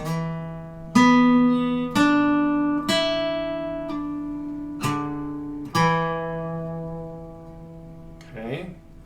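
Clean electric guitar notes play a riff, opening with a slide, then a series of plucked notes and chords ringing out and decaying one after another, ending with a short squeaky slide.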